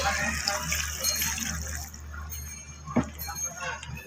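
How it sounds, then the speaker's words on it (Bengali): Water poured into a pan of potato and drumstick curry, a steady watery rush and trickle over low background hum, fading after a couple of seconds, with a small clink near the end. "তার জন্য আমি একটু জল দিয়ে দেবো"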